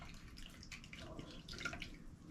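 Water runs and drips steadily while the natural keys of a grand piano are rinsed to clear grease and dirt, a close, continuous patter of small splashes and trickles.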